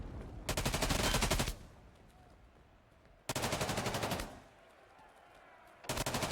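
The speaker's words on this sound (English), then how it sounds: "Great shots from Exquisite." Rapid automatic gunfire in a Hunt: Showdown esports match, in three loud bursts of about a second each, separated by quieter gaps.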